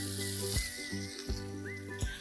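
Onions, crushed ginger-garlic, slit green chillies and curry leaves sizzle in a hot pan with a steady close frying hiss, broken by a few sharp stirring clatters of the spoon against the pan.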